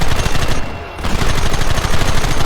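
Machine gun fire in Red Dead Redemption, a loud, rapid, continuous rattle of shots that pauses briefly near the start before resuming at full intensity to the end.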